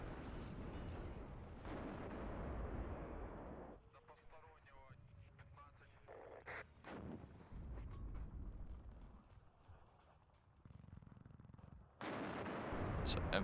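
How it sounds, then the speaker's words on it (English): An M48 tank fires from range in the Cold War strategy game WARNO, with booming cannon shots and battlefield rumble; a voice talks over the distant explosions and gunfire. "So M48 just firing from range."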